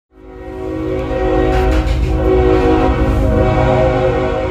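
La Bestia, a freight train running through Mexico, passes close by a house at night, sounding a loud, sustained horn over the heavy rumble of the rolling cars.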